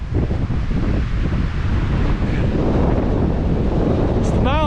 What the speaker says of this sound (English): Standing in the wind while videotaping.